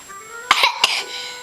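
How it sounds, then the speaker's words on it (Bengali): A young boy gives a few sharp, close coughs in quick succession, a brief burst standing alone without talk. "বাবা, ছেলেটা এত কাশি দেয়।"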